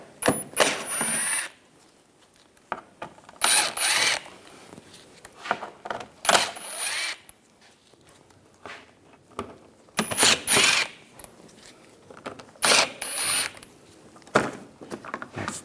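A T25 socket ratchet backs out headlight screws on a 2010-2014 Volkswagen GTI, giving bursts of close, dry clicking in short runs separated by quiet pauses.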